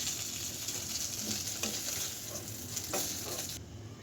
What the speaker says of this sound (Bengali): কড়াইতে দিয়ে দিয়েছি আর একটু তেল, আর এখন পেঁয়াজ আর কাঁচামরিচ দিয়ে দিলাম।